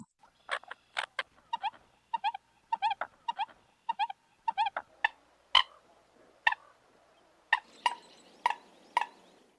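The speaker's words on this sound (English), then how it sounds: "the American coot does a lot of, little, I think of them as kind of like chickadee noises" Series of short, bright clicking and popping American coot calls in quick bursts, with a few louder sharp calls spaced out near the end, nearby and unaccompanied.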